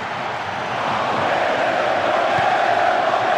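A stadium crowd in PES 6, at a Palmeiras versus Bahia match, roars steadily, swelling slightly louder after the first second and sustaining a broad, continuous cheer.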